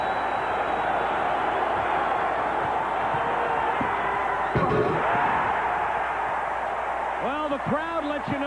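A basketball arena crowd at the 1988 NBA Slam Dunk Contest roars steadily after a slam dunk, a dense sustained cheer with a thud partway through and whoops near the end, under a commentator's voice.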